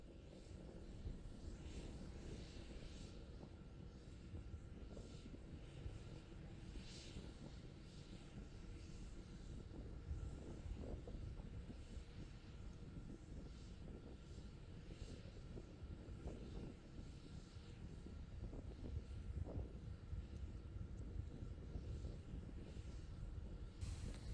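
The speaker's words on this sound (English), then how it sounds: "T plus 3 minutes, continuing to climb on power of 2 engines." SpaceX Starship SN11 prototype rocket climbing on two engines during a high-altitude flight test, heard as a distant, continuous low roar with wind buffeting, steady throughout and swelling slightly near the end.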